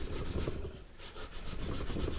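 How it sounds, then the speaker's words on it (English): A sanding stick rasps back and forth along the wooden neck of a Martin D-41 guitar during a neck reset repair, close, steady rubbing strokes with a brief pause midway. "Take the same sanding stick, and I'm just going to sand it now."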